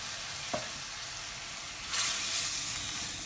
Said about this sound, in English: So next going to add the chopped tomatoes in